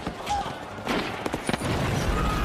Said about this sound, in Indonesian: Ledakan, tembakan, jeritan kematian menggema memenuhi area peperangan.